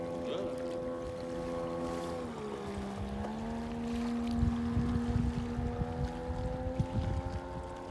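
Outboard motor on a Solar 470 Super Jet Tunnel boat running steadily nearby, a sustained harmonic drone that dips briefly in pitch then settles slightly higher, with wind buffeting and water splashing underneath.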